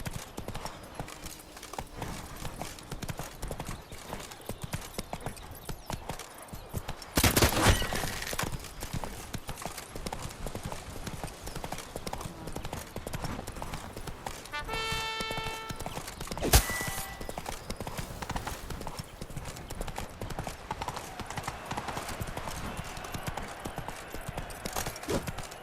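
Hooves of the horse Roach trotting in The Witcher 3, a steady rapid clip-clop rhythm throughout, with a sudden burst of noise around a third of the way in and a brief whinny-like tone later.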